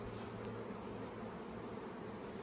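Honeybees buzz at an open hive during a brood and pollen inspection, a steady, dense drone that holds throughout with no talking.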